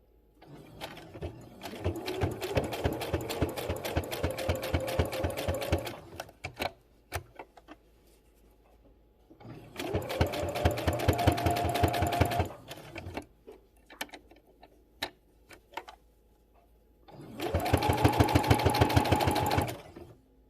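A sewing machine stitches fabric for a pillow in three bursts of rapid, even clicking, pausing between runs for brief handling noises.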